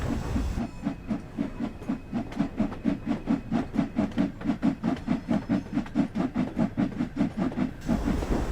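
Steam locomotive cylinder cocks venting steam: a steady series of rhythmic, loud chuffing hisses, roughly three per second, continuing for several seconds before stopping.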